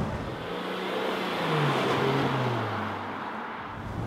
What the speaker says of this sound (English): When we can hammer the throttle a little bit more, feel the sportiness of this engine